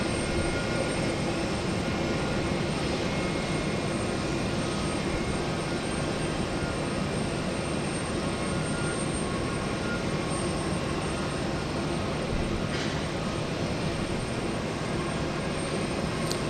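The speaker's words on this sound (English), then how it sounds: "So I believe this to be United Flight 473. It's an Airbus A320." A United Airlines Airbus A320 at Houston Intercontinental, heard as a continuous broad jet roar at a steady distance, with faint hiss and no voices.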